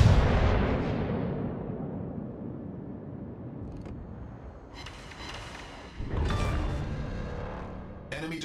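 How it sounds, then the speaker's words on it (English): An enemy destroyer blowing up in a naval battle game with the battleship Iowa, a big booming blast that fades into a long low rumble, followed by further crackling explosions and a second heavy burst. "Enemy destroyer blown up."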